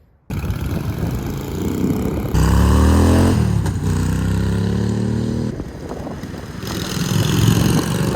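A motorcycle, recently repaired after a slipping clutch, is ridden past, its engine loud and close and revving up and down through changing pitches for about eight seconds.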